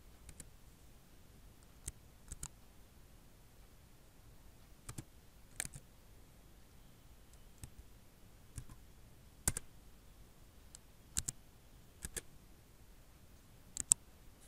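Keys on a computer keyboard tapped in sparse, isolated clicks and short pairs spread out with long pauses, as if entering a friend's name slowly in a quiet room.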